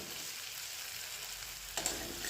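Onions and whole cumin seeds fry in hot oil in a home kitchen: a steady, close, hissing sizzle with a brief clink partway through, no talking.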